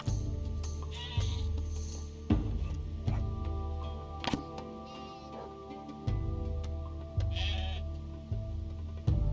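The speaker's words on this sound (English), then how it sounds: "We've got way too many sheep again." Sheep bleat over and over in the video game Dawn of Man, with sharp cracks and thuds recurring amid a steady droning background.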